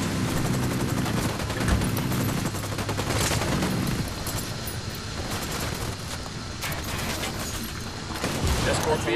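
Dense gunfire from the game Ghost Recon Wildlands, a sustained burst of rapid shots and automatic fire rattling loudly and continuously through the whole stretch with no talk over it.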